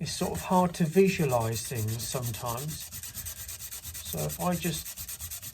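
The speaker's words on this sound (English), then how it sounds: "scuff it all over" Metal mudguard support for a Honda scuffed by hand with an abrasive, rapid rasping strokes heard under someone talking and then briefly on their own.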